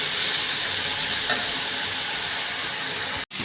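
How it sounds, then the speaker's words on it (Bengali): Vegetable bhaji fries and is stirred in a pan, giving an even, dense sizzle with one brief stir scrape, then a sudden momentary cut near the end. "এবার এটাকে নেড়ে চেড়ে একটু ভালোভাবে ভাজা ভাজা করে নিলে এটা রেডি হয়ে যাবে।"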